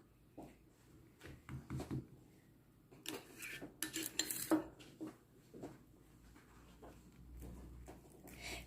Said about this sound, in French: je vais prendre de la sauce et je vais étaler